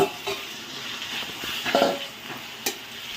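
Ginger garlic paste hitting browned onions in a pan for mutton kheema curry, a moderate sizzle with stirring scrapes and a sharp utensil knock near the end.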